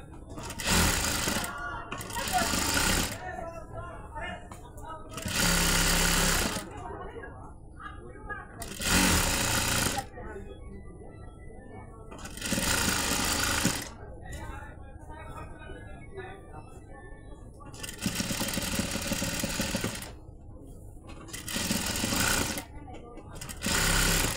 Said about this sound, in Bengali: এই যে আমার সেলাইটা হয়ে গেল।